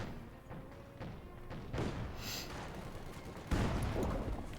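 In the strategy game Company of Heroes 2, a Panzer IV tank gun fires amid battle noise, with a heavy boom near the end over a rumbling background of distant explosions and gunfire.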